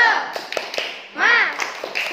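Class clapping routine for spirit: a few sharp taps and claps, with children's voices chanting over the claps in the middle.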